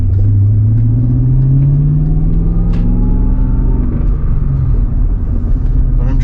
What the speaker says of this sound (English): I'm not driving the car like crazy right now. I'm just enjoying driving it comfortably